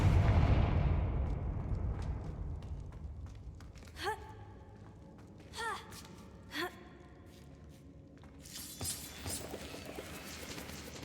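A Confringo blasting spell goes off in a video game with a loud, booming explosion that decays over a couple of seconds, followed by short whooshing effects and a gasp-like voice sound.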